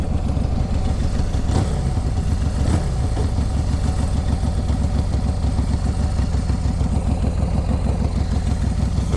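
A 2003 Exotic chopper motorcycle with an S&S motor runs steadily up close, a loud, low, lumpy idle with rhythmic clattering pulses and no talking.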